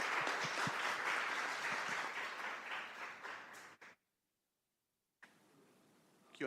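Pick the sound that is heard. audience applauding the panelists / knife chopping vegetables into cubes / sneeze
audience applauding the panelists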